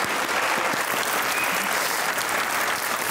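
Loud, sustained clapping from a studio audience at a comedy talk show fills the whole stretch, dense and even with no pauses.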